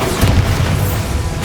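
The Bombardo explosion spell in Hogwarts Legacy lands as a loud, close boom with a deep rumbling body that rolls on briefly before fading.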